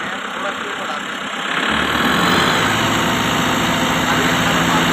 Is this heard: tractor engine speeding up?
yes